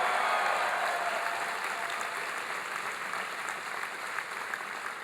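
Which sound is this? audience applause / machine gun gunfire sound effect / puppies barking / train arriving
audience applause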